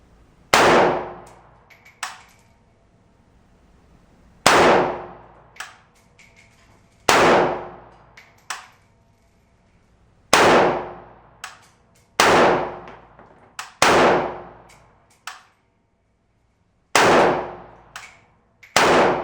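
A Norinco Type 56-S, an AK-pattern rifle, fires about ten loud single shots at irregular intervals. Each sharp crack decays into a short ring, with quiet gaps between shots.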